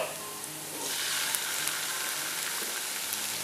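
Onion, garlic and tomato fry in a pan for Arabic Bukhari rice, giving a steady, close sizzle that swells louder partway through, with faint stirring ticks and no talking.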